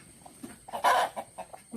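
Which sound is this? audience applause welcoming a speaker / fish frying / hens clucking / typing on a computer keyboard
hens clucking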